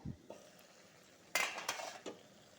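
A lid goes onto a cooking pot of vegetables simmering with coconut water and turmeric: a few sharp metallic clanks and clinks close by, then quiet, with no talking.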